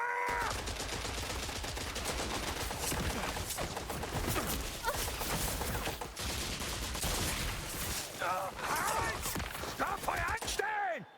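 Gunfire rattles through a cutscene in Indiana Jones and the Great Circle, rapid shots and impacts thick under shouted voices and commands, with loud cracks near the end.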